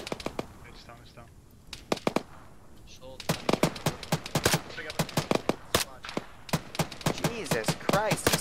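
Sharp, loud gunshots ring out in a video game, spaced single shots at first and then quick repeated bursts, with someone talking between them.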